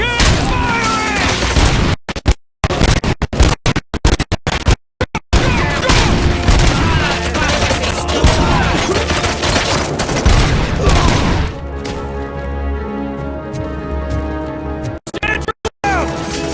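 Sustained gunfire from RoboCop: Rogue City, a 2023 first-person shooter, rattling in rapid bursts with crashing impacts for most of the stretch before easing into a steadier mechanical drone, with battle shouts mixed in.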